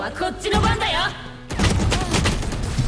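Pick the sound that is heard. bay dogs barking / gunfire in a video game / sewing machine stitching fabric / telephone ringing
gunfire in a video game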